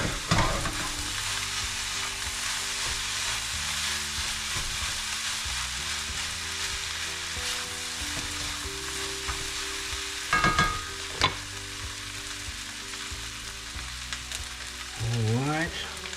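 Egg fried rice sizzles steadily in a hot pan while being stirred, a constant frying hiss with occasional scraping clinks and a brief louder rattle near the end, close and continuous with no talking.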